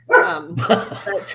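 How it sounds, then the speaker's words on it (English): A pet dog at home gives a quick pair of close, loud barks, overlapping with a person starting to speak. "And that's my dog."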